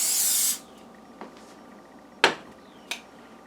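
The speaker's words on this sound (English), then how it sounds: "basically I just spray the pan" A short burst of butter-flavored cooking spray hisses loudly onto a pan at first, then stops; a few faint clicks and taps of the can and pan follow.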